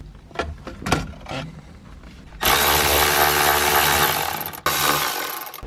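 Tools work on a Nissan 240SX to remove the transmission shifter: a few sharp metallic clicks and knocks, then a loud power tool whirring steadily for about two seconds, a brief stop, and a second burst.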